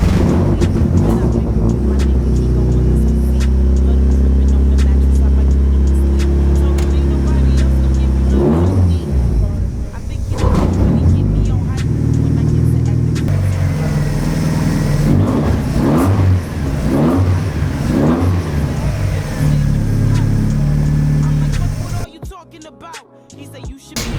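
A Mazda MX5 engine, with its gearbox and differential oil being serviced, runs loud and close with a steady idle, then a series of sharp revs before it cuts off abruptly.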